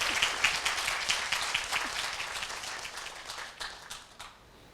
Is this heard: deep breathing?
no